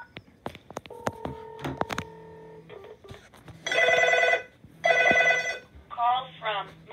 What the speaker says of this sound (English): So as you can see, all the phones are ringing.